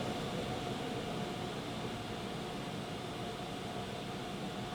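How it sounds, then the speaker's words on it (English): Overhead dryers of a PDQ Laserwash M5 car wash at a Caltex station blast with a loud, constant roaring rush of air that holds steady from start to finish. "I think one of the dryers just conked out. No, it's firing up again."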